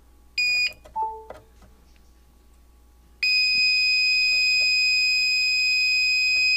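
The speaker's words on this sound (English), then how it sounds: "So that loud beep is my phone is pulling charge" A Cen-Tech 750 watt power inverter gives a couple of short beeps, then a loud, steady high-pitched tone sounds continuously to the end.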